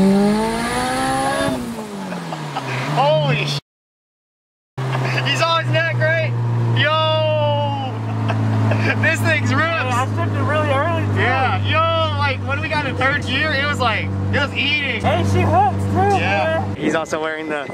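Turbocharged Honda Integra with a B18C engine on a dyno pull, engine note rising in pitch then dropping, a brief gap, then a loud sustained drone with whining turbo under excited voices.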